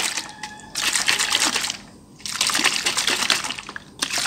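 A coconut-water isotonic drink is shaken inside a container, giving loud sloshing, splashing bursts in two long rounds with a short pause between them and a final shake beginning at the end.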